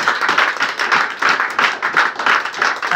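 A church congregation claps together in acclaim, a dense, steady burst of many hands close by, continuing evenly for a few seconds with no talk over it.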